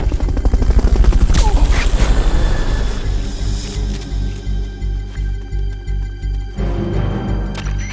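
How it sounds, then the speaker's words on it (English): Loud, steady helicopter rotor thumping from a Fulton recovery helicopter in Metal Gear Solid Peace Walker fades into a repeating rhythmic pulse, with game ambience and no talking. "Fulton recovery helicopter is complete."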